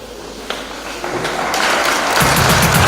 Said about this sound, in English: I want to request us to stand up and clap our hands as we receive Mrs. Sheila